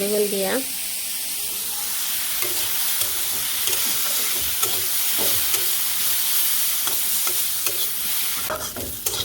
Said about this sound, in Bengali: তো এটা হালকা করে একটু ভাজি ভাজি করে তারপরে আলু একসাথে মিশিয়ে নিব